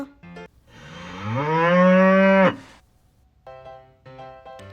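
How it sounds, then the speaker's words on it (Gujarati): A single long, loud cow moo that swells and holds for over a second, followed by short musical tones. "ગاو એટલે ગાય"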